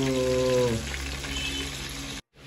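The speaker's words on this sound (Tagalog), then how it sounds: "So start na tayo magprito. Ito ang ating kawali." Milkfish (bangus) frying in a pan gives a steady soft sizzle and crackle, heard close and alone after a brief voice fades, cutting off near the end.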